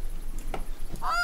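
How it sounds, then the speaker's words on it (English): Geese honking in the hunting game theHunter: Call of the Wild, a couple of faint honks followed by a clearer call near the end, quiet and somewhat distant. "I hear some geese."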